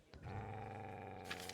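A dog growls in Kingdom Come: Deliverance II, a low, steady, close rumble lasting over a second, with a brief sharper noise near the end.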